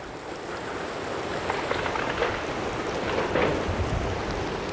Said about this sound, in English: There's a rainstorm barreling in